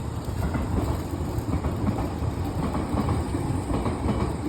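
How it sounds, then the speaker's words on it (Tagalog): A train passes close by with steady, loud rumbling and faint clickety-clack of the cars on the rails, continuous for the whole stretch with no talk. "Train."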